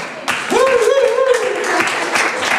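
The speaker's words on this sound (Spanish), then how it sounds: "¡Un aplauso!" An audience at a Halloween party applauds loudly and steadily, while a voice cheers over the clapping.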